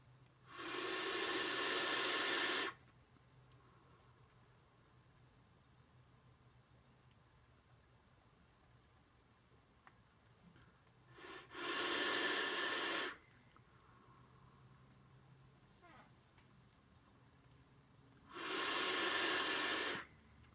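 Vaping a VCST rebuildable atomizer with a 316L framed staple coil at 90 watts, airflow fully open: three loud, airy hissing draws of about two to three seconds each, separated by quiet pauses.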